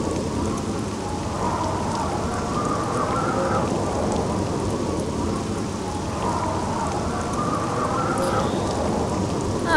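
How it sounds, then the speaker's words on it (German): Steady rain pours down in the video game Morrowind, a dense, even hiss of falling water that holds constant and fairly loud throughout, with no voices. "Und es regnet."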